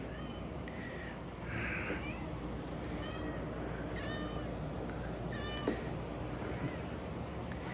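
An orange cat meows several times in short, separate calls against a steady background hum, fairly close by.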